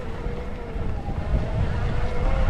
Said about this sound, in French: J'avais annoncé du vent rafaleux.